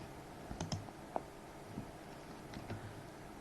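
A few faint, sharp mouse clicks in the BlueStacks emulator, spaced irregularly over a quiet room hiss.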